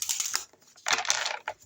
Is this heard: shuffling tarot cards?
yes